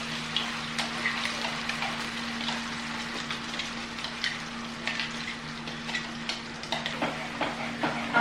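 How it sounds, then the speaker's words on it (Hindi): Masala gravy for dum aloo fries in a pan with a soft, low sizzle and irregular light stirring scrapes over a steady background hum, no talking. "अब हम इसे फ्राई करेंगे जब तक कि ये तेल और मसाला अलग ना हो जाए"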